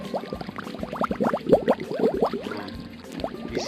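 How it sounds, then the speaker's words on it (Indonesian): Steady bubbling and gurgling water, a dense run of small bubble pops close by that swells and eases over a few seconds. "Nah, ini suara seperti di akuarium."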